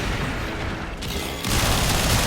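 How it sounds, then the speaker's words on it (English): Explosions in the Warframe video game make a dense, continuous roar of booming noise that grows louder partway through, with no talking. "Avoid the explosions."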